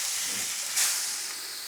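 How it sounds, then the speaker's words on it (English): A thick ribeye steak sears in melted butter, giving a steady, fairly quiet hiss with a brief louder sizzle swell partway through. No one speaks. "And we let it sear for"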